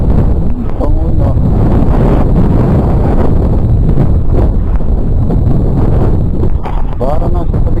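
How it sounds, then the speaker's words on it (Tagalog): Strong gusts of wind, like at a seashore, buffet the microphone with a heavy low rumble, and people talk over the roar. "Parang nasa tabing dagat. Pagkakalakas ng hangin."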